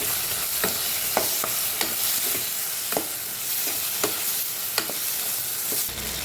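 Bitter gourd sautés in a pan with a steady close sizzle, broken by regular spatula taps and scrapes roughly every half second to second, no voices.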